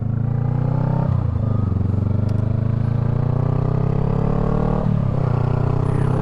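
Honda Rebel 500 motorcycle accelerating on a highway ride, its loud, steady engine drone rising in pitch through gear changes with brief dips at each shift, wind rush constant throughout.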